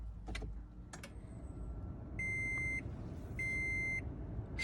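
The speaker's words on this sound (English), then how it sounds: "Let's turn on the car." A 2015 Scion tC is switched on, bringing two short clicks followed by two sustained electronic dashboard chimes, close and clear above a low interior hum.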